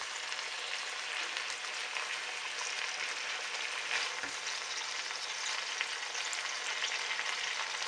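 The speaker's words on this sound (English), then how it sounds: "Give it a good mix." Pinakbet vegetables sizzle and fry steadily in a pan while being stirred, a dense continuous crackle with no talking.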